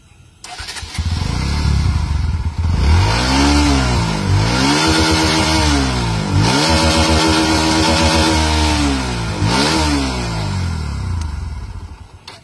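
A motorcycle fitted with an extra aftermarket silencer revs loudly and close, its engine rising and falling through several sharp throttle blips in a row, harsh and booming.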